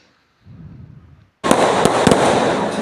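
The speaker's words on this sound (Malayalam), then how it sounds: "അപ്പോൾ പടക്കമൊക്കെ പൊട്ടുന്നുണ്ട്" A quiet rumble, then a dense barrage of firecrackers bursting at a church feast in Kerala, rapid, loud crackling pops that keep going to the end.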